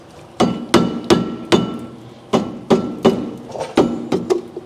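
A hammer knocks to seat a wheel bearing against the spindle nut on a 1986 Chevrolet Monte Carlo SS, about a dozen sharp, close metallic blows in an uneven rhythm, each one ringing briefly.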